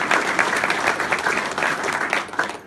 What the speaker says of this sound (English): Let's give Kent and the team at Epic Piping a great round of applause